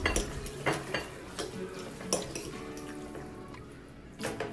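Pasta tossed with Knorr seasoning in a pot, giving soft scraping and clinks of a utensil against metal, a few sharper knocks spaced irregularly, fairly quiet with no talking.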